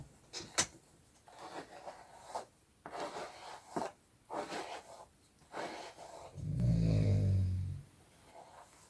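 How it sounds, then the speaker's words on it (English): A dog snores once in a single low, rumbling, drawn-out breath lasting over a second, close and fairly loud, after several soft scratchy rubbing and rustling noises nearby. "Dog snored."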